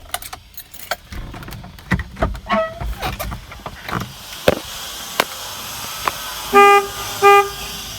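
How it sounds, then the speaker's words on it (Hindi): The dual trumpet horn of a 2007 Skoda Octavia Rider TDI 1.9, weakened by a low battery, gives two short toots near the end, after jangling keys, clicks and scattered handling noises up close. "इसमें ड्यूल ट्रम्पेट हॉर्न आता था जो कि काफ़ी लाउड था।"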